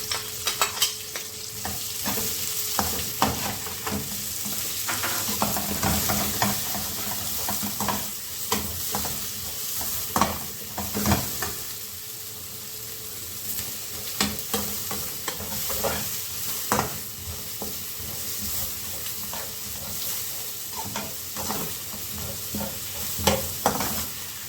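Onions frying in a pan with oil for a couscous with vegetables and meat, a steady broadband sizzle with repeated scraping, clacking strokes of a utensil stirring them, close and continuous throughout without talk.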